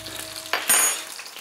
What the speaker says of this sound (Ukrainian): Будемо смажити на сильному вогні.